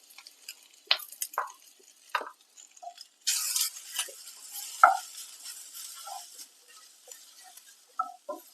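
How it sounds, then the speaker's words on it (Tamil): Grated coconut is sautéed in a pan for white peas masala, giving a quiet sizzle with intermittent scraping and stirring strokes of a spatula. "நல்லா ப்ரௌன் ஆகிற அளவுக்கு இந்த தேங்காயும் நல்லா வதக்கணும்"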